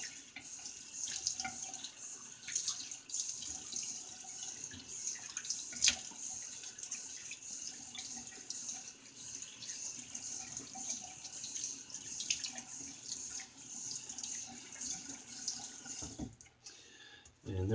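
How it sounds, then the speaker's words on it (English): A bathroom tap runs steadily while a vintage Williams double-edge razor is rinsed under it, a soft continuous splashing stream with occasional clicks and knocks, fairly quiet and close, with no speech. "Let me get a quick rinse."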